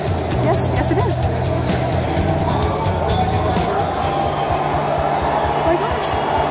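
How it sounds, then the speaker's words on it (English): Crowd at Star Wars Celebration Orlando cheering for Harrison Ford: a steady, dense roar of voices and babble that fills the space throughout, with nearby people talking over it. "I can hear people cheering"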